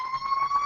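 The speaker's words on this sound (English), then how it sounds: "That's definitely a fire truck." A fire truck siren wails steadily outside in the street, a continuous moderately loud tone with no talking over it.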